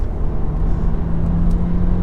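A Seat Leon FR with a manual gearbox pulls hard along a road, its engine giving a loud, steady drone with a low tonal hum held evenly throughout and no voices over it.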